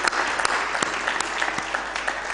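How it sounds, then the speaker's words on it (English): An audience at a diaspora homecoming convention (KDHC-2023) gives a sustained round of applause, a dense, steady wash of many hands clapping with no talk over it. "Another round, befitting round of applause"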